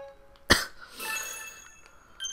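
A person with a cold lets out one small, sharp cough, close and fairly loud, followed by a breathy trailing exhale and faint sniffing in a quiet room.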